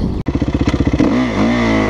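Motocross motorcycle engine revved with a quick series of rhythmic throttle blips, then held at a steady higher rev with the pitch rising and dipping; loud and close, with no talking.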